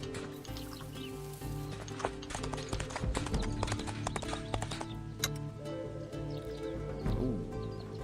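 Horse in the video game Expeditions: Conquistador: clip-clopping hooves and a whinny over a steady ambient game soundscape, moderately loud and continuous throughout.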